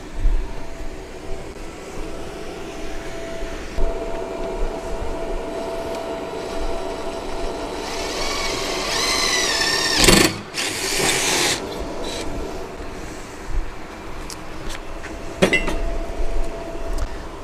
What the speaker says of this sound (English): Get the handy dandy drill.